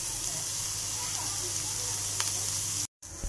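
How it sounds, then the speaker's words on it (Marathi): Chopped onion hits hot oil in a pan for tempering while cooking dried sukat fish, giving a steady broad sizzle and hiss that holds throughout with a brief cutout near the end; a voice talks over it. "फोडणीसाठी पॅन मध्ये तेल गरम करून यात कांदा घालूया"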